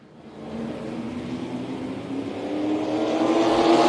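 Thunder Trucks race at Tucson Speedway, a pack of racing truck engines roaring and building steadily louder as the field gets underway on the oval.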